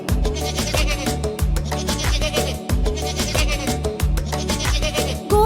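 A voice imitates goats bleating in a sung, wavering bleat over a loud, rhythmic musical accompaniment. The quavering calls repeat in steady phrases from start to end.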